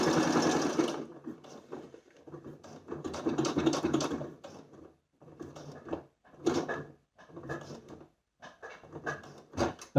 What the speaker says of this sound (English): machine, which is a Janome, will stop with the needle down, and that makes my life a lot easier.